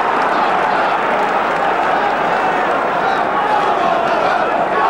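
Large football crowd at an Aston Villa v Luton Town league match in 1991 roars steadily with excited cheering and a hint of applause, a dense continuous wash of voices throughout, with a commentator's voice mixed in.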